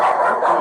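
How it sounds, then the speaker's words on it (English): A silver Labrador barks in a short burst, close and fairly loud, with a rough, continuous quality across the whole moment and no other sounds standing out. "I have a dog, a silver lab."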